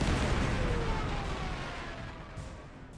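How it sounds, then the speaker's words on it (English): A Stuka dive bomber attacks a tank in the video game Panzer Corps 2, producing a dense, rumbling barrage of explosions and gunfire that fades slowly over a few seconds. "let's get the tank reduced a bit with the Stuka"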